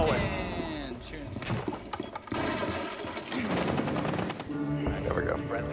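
Rapid gunfire in Rainbow Six Siege on the Outback map, bursts of shots crackling through the whole stretch alongside game effects, with talk and voices mixed in.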